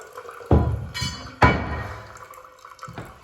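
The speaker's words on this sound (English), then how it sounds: "the tank is continuously refilling." A toilet tank with a leaking flapper valve refills with a soft running-water hiss. Two sharp clunks near the start, followed by a fainter third knock, sound like a porcelain lid being handled close by.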